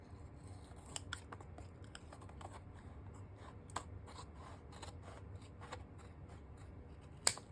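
Scissors trimming paper for an artist trading card journal, a quiet run of close, crisp snips and rustles in an irregular rhythm, with one sharper click near the end.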